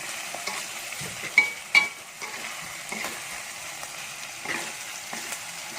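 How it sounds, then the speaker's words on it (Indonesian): Sugar being stirred into food in a pan, a soft steady sizzle with a gentle scraping of the spoon and a couple of brief clinks, quiet and without talk. "Kita aduk lagi sampai merata."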